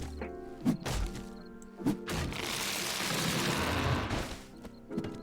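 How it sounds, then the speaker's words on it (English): Fire axe chopping trees in 7 Days to Die: several sharp, spaced wooden thwacks ring out close by, separated by a longer rushing crash as a tree comes down, then more chops resume. "For the rest of the evening, I proceeded to chop down trees, so enjoy this chill tree cutting ASMR segment."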